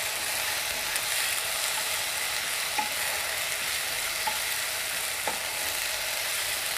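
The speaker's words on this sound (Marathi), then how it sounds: "आता त्यामध्ये मी थोडी कोथिंबीर घालते. मी पुन्हा छान परतून घेऊया." Chopped onion and coriander fry in a pan for chicken kheema, giving a steady bright sizzle with a few soft scrapes and clicks from stirring, close and continuous with no talking.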